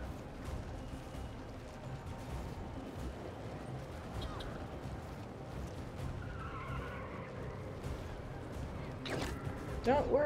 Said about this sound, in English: Didn't know New York had a drift scene.